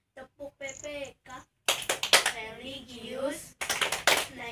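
Schoolchildren in an Indonesian classroom perform the PPK rhythmic clap, a patterned class clap led by the teacher: short separate claps at first, then a denser run of group clapping mixed with children's voices.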